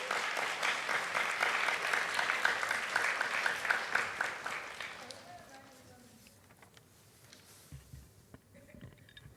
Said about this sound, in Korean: 우리 선교사님 따뜻하게 박수로 맞이해 주시면 감사하겠습니다